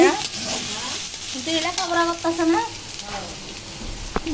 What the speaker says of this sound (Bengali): আমি ছোট চিংড়ি মাছ দিয়ে পেঁয়াজ ভুনা করব